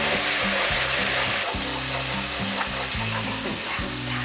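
Chicken sauce with ketchup and hot sauce bubbles loudly in a hot pan after water goes in, a dense roaring sizzle that stays close and continuous, with a thick, slightly pulsing low rumble. There is no speech.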